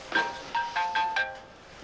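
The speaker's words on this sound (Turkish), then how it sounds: "Telefonum çalıyor." A mobile phone ringtone rings in a short run of bright electronic tones, five quick repeated chimes close by and clear, with no talking over it.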